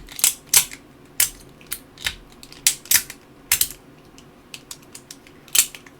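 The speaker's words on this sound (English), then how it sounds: "So if you hear a lot of clicking, I apologize." Sharp, dry clicks from a handheld fidget toy, fired off in irregular bursts and single snaps across the whole stretch, close and fairly loud against quiet room tone with no talking.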